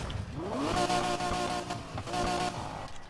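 A Lamborghini Murcielago V12 in Need for Speed Heat climbs through a loud rev, holds a steady high howl, dips briefly, then surges again before settling back, close and alone.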